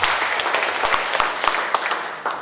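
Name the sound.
applause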